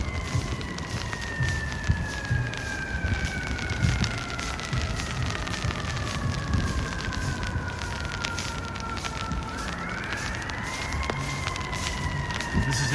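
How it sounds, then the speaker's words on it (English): Freezing rain patters densely and steadily on an umbrella on a Midtown Manhattan street during a snowstorm, a continuous close hiss with a siren wailing in the background. "You can probably hear it on my umbrella."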